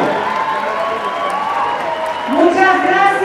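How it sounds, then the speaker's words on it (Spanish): Applause and cheering from a crowd at a political rally in Iztapalapa, Mexico City, for a candidate for head of government, steady and loud, swelling near the end as a voice rises above it. "Un aplauso."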